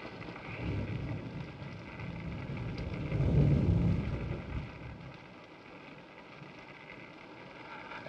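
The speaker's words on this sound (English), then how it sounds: "It's raining." Steady rain falls outside a house at night in a 1941 horror film, a broad continuous hiss with low rumbling that swells midway and then eases off, with no talking.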